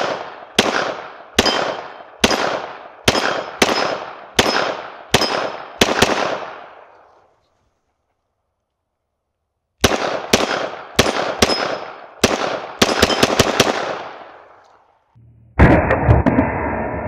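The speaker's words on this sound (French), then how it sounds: "Ça permet d'enchaîner des tirs assez rapides en gardant une stabilité comme importante" Rapid gunshots from a pistol fitted in an MCK kit, fired in two quick strings of about eight sharp, loud reports each, separated by a pause, with a clattering mechanical burst at the end.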